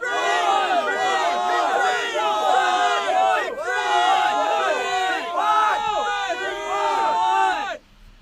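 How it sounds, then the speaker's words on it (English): A loud, dense crowd roar from a game show sound effect, with layered shouting and cheering voices that swell continuously for about eight seconds before cutting off abruptly. "you are after the crowd noise"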